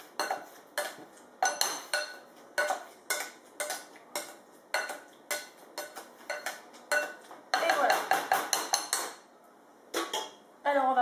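Soft cooked vegetables mashed into a fine purée with a small hand utensil: a steady series of clinks and scrapes of metal against a pot, roughly two per second, growing denser near the end, close and without talk.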